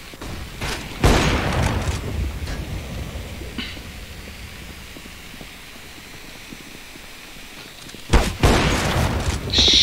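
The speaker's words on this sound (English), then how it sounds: "Throwing flashbang." A flashbang grenade goes off in Counter-Strike: Global Offensive, with loud broadband bursts near the start and again near the end over a steady hiss of game ambience.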